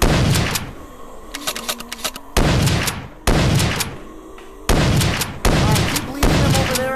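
Loud shotgun blasts fired in VRChat, about five heavy booms spaced roughly a second apart, each followed by a short ringing decay, with faint voices between shots.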